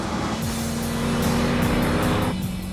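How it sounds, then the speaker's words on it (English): The Lamborghini Diablo GT's engine roars hard and close on a race track, its pitch sweeping as it revs through the gears and dropping off sharply near the end. It is loud and has no talk over it. "The engine a bit empty. Still making plenty of noise."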